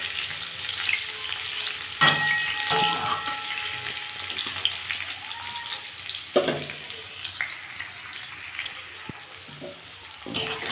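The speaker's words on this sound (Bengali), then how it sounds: "আমার ফুলকপিটা দেখুন লাল লাল করে ভাজা হয়ে গেছে" Cauliflower sizzles steadily in hot oil in a pan, close by. Now and then a spatula scrapes or clinks against the pan.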